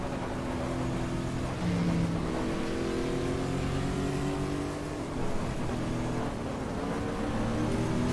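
Porsche 911 GT1 race car in GTR2 at Willow Springs, its engine droning steadily at high revs with shifting harmonic pitch, loud and continuous throughout with no talk.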